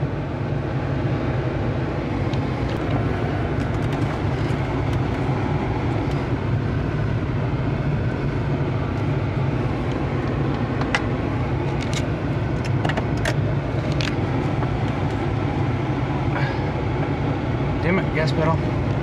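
A car engine runs at a steady idle just after being started, a constant broadband rumble with occasional faint clicks and ticks over it.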